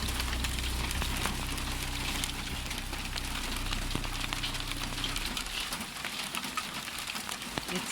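Hail falls during a spring storm as a steady, quiet pattering of many small impacts with a low rumble underneath, continuous throughout.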